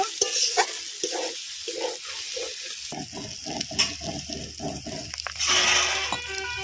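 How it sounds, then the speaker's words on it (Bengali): Pointed gourd (potol) pieces being stirred in a frying pan, a steady hiss of sizzling oil broken by repeated scraping strokes of a spatula, close and fairly loud. "পটল কটা দিয়ে দিয়েছি, এবার ভালো করে নেড়ে ছেড়ে নেব।"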